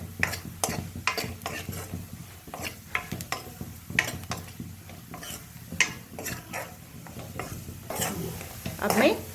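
Dry dates sizzle in hot ghee while a spoon scrapes and stirs the pan in repeated close strokes, with a faint steady frying hiss underneath.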